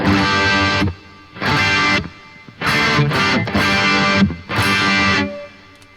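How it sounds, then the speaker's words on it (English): A Boss GX-10 multi-effects unit with delay and reverb switched on shapes four loud, sustained guitar phrases, each ringing out with a tail of delay repeats and reverb before brief quieter gaps, with no talking. "And there we have the delay and the reverb."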